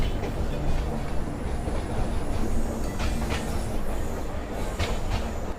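An Indian Railways train rumbles steadily along the tracks, with a continuous low roar and faint rhythmic clatter from the wheels throughout.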